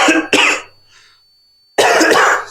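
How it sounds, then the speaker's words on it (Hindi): A man coughs twice in quick succession, close and loud, then a brief quiet gap before another harsh coughing burst. "मेरा खांसी ना बहुत दिन से सही नहीं हो रहा है,"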